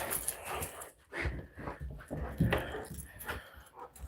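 Puppies panting and snuffling up close, quick, uneven breathy puffs with small snorts and whimpers, faint and with no talk.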